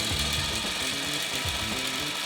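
A sewing machine runs steadily while stitching a quarter-inch French seam on a scrub bag, including a short back stitch at the top, giving a continuous rapid mechanical whirring and ticking with no talking.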